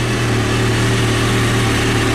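A Kawasaki ZX-6R sport motorcycle idles steadily at operating temperature, a close, constant low hum with an even throb and no change in pitch throughout.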